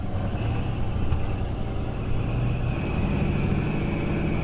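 A cheap turbocharged farm truck accelerating, its engine drone loud and sustained with a faint steady whine riding above it and no talk.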